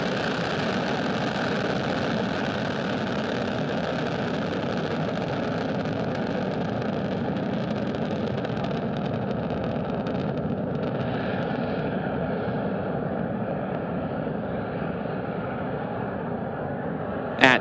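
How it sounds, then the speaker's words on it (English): A SpaceX Falcon 9 rocket lifts off from Cape Canaveral Space Force Station carrying the GPS III SV09 satellite, its engines producing a continuous, dense roar that holds steady for many seconds while the brighter edge slowly softens. "Engines full power and liftoff."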